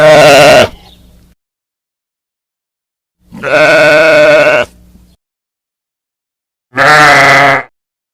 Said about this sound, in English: Different sounds of a sheep.